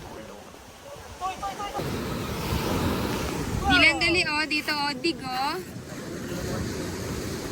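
Steady rush of strong ocean surf and wind at a beach in Bohol fills the background, with people talking and calling out over the crashing waves.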